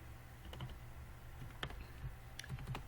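A computer keyboard typing C++ code gives sparse, uneven clicks over a steady low hum, close but soft, with no one talking.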